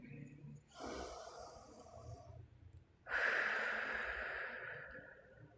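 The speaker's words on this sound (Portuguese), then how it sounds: "Faça uma respiração bem profunda." A deep breath taken during a guided spoken prayer: one long airy inhale, then a brief pause, then a louder, fuller exhale. It is close and intimate and stands alone without talk.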